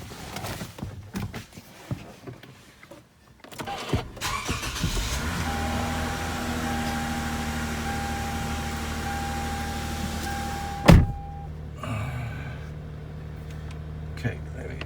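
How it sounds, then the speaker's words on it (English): A third-generation Lexus GS engine cranks and starts after some faint shuffling, settling into a steady idle heard from close by, with a sharp knock partway through. "Let me go start the car and see."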